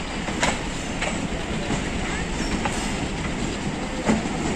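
The Kohat Express train of Pakistan Railways rolls into a small station with a bare platform, steady wheel rumble and rail clatter with a few sharp clicks.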